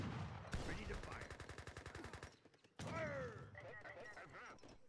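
Rapid automatic gunfire rattles in a fast steady stream in a video game battle, then cuts out before another burst with voices and game sounds mixed in.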